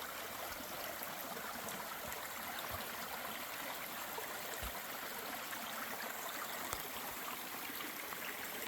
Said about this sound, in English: Another miniature waterfall and bridge.